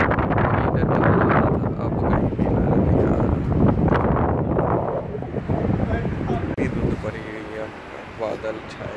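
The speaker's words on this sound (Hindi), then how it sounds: "बादल छाए हैं और सही तेज़ ठंडी ठंडी हवा चल रही है" Strong cold wind gusts outdoors under cloudy skies, a loud rushing buffet on the microphone throughout, with someone talking over it.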